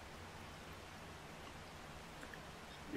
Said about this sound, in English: Boy, it is raining like crazy outside.